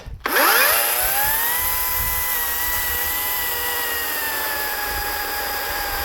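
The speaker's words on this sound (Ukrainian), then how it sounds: "Я не тисну, легенько працюю пилою." Chainsaw cutting through a hornbeam log, starting with a sharp rising whine and then settling into a loud, steady high-pitched buzz with no speech.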